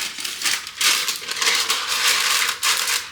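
Paper liner crinkles and rustles steadily up close in a Ninja Double Stack air fryer drawer, a dense crackling texture with a couple of sharper crumpling bursts.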